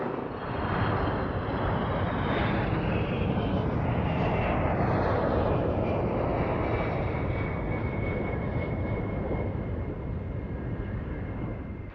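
A KC-10 Extender tanker aircraft operating at RAF Mildenhall gives a sustained, loud jet roar with a faint high whine, holding steady before easing slightly at the end.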